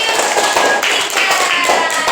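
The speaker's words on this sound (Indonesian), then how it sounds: "Iya, tepuk tangan lagi." A group of students claps their hands together in a classroom, a quick, steady run of close, loud claps that continues for about two seconds.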